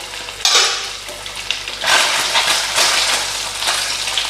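Rohu fish frying in a pan over a low-to-medium flame: a loud, close sizzle that surges in bursts, with an occasional clink of utensil against pan.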